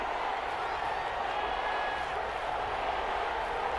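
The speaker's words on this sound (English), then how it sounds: "the crowd getting into it as we come up on a big third down" A football stadium crowd before a big third down, a dense, even roar of many voices cheering from a distance, steady throughout with no breaks.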